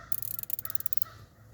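A quick burst of crows cawing nearby, several harsh calls overlapping in a rapid, raspy series that stops abruptly.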